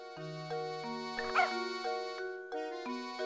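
A single short game-style dog bark from the Professor Layton video game, one quick yip set over a steady, sustained musical background with no talking.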